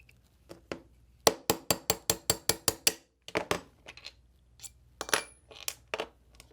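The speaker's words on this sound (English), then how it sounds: "And now we'll tap out this forward pin here." Sharp metallic taps from a small hammer and punch drive out the forward pin of a Ruger LCP 2 pistol, with a quick run of about ten evenly spaced strikes, then scattered, irregular clinks, close and clear with no talking.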